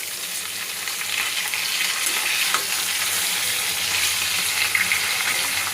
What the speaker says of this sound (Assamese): ইফালে মাছ ভাজি আছোঁ